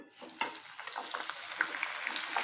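Onions go into heated oil in a kadai and start frying, producing a soft, steady sizzle with faint crackles, fairly quiet and without talk.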